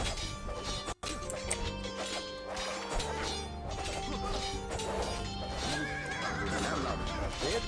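Horses whinny and neigh several times in the Age of Empires II video game, over clattering hooves, crashing battle impacts and busy game noise, fairly faint overall.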